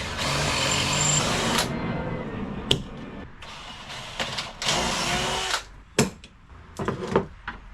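A drill bores pocket holes for a cupboard in a VW Transporter campervan build, a loud whirring run followed by short bursts and sharp clatters of the tool, close to the microphone.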